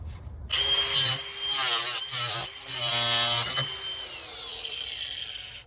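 Angle grinder cutting through PVC pool pump plumbing pipe during a pump replacement, a loud continuous whining cut with rising and falling pitch and brief pauses, close by and alone, tapering off as the blade winds down.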